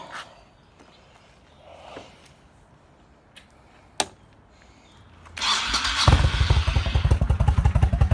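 A Stage 2 Honda Shadow 1100 motorcycle engine cranks and fires up about five seconds in, settling into a loud, lumpy, rhythmic V-twin idle after a quiet stretch with a single thump.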